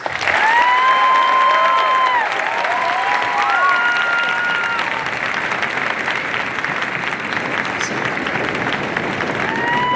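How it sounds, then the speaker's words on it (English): An audience at a senior class celebration gives a sustained round of loud, steady clapping for about ten seconds, with a few cheers mixed into the applause. "one more round of applause, please."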